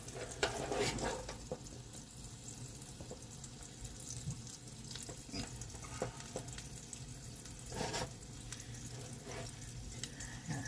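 Asparagus pan-searing gives a soft, steady sizzle that runs throughout, faint and fairly distant, with occasional clicks and scrapes of handling in the kitchen and no talk.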